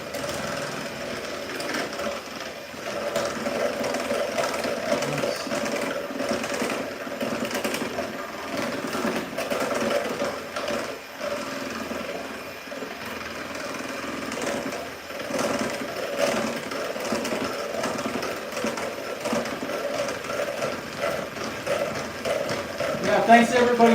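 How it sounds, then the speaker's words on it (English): Lemon cake batter being whisked, a steady buzzy whirring and rattling that runs unbroken for the whole stretch, with a voice faintly underneath. "Use the whisk."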